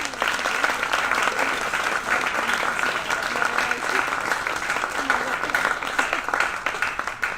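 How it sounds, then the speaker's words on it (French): Audience at a women's football club gala evening in a hotel applauds the club president, steady dense clapping filling the room without a break. "je vous demande d'applaudir très très fort le président"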